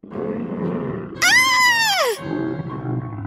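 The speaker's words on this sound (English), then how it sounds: "Do you want to see the lion?" A children's toy lion gives one synthetic roar lasting about a second, loud and close, rising then sliding down in pitch, with quieter background sounds before and after it.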